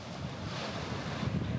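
Sea waves and wind along the New Zealand coast near a lighthouse, a continuous broad rushing wash with steady wind noise, loud and unbroken.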